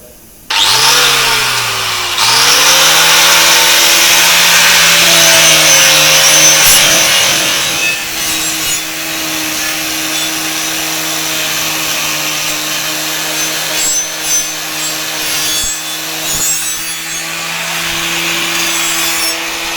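Angle grinder scraping old Propspeed coating off a bronze boat propeller, a loud continuous harsh whining grind with a dip in pitch near the start and steady roughness after, close up, no talk.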